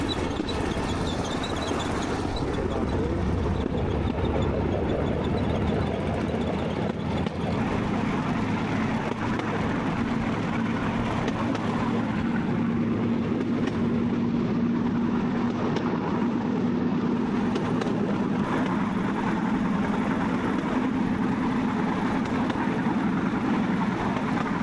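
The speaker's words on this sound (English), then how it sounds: "We're on the bamboo train." A Cambodian bamboo train makes a continuous rumbling, rattling ride over rails, with steady mechanical noise and a low engine drone throughout.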